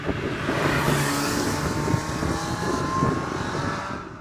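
An MGF sports car driving on new Yokohama Advan V701 tyres, a continuous engine drone and road roar heard from inside at a steady, fairly loud level with no talking.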